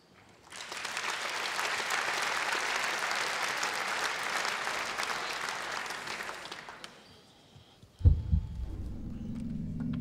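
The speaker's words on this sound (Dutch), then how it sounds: "Uw applaus voor Full Beats." A gala audience at a sports awards event applauds a youth dance group, a broad sustained wave of clapping that fades out after about six seconds, followed by a sudden loud thump and low music-like rumble.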